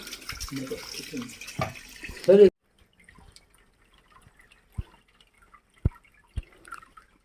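Ganga river water pours steadily into a vessel at Dahibaon, Devgad, for a couple of seconds, then stops, followed by a few scattered drips in near silence.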